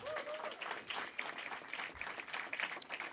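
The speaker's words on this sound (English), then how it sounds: "Clap it up one more time for her" Short round of audience applause after a storyteller at a live storytelling show, moderately faint clapping from a small crowd, uneven and fluttering, with no talk.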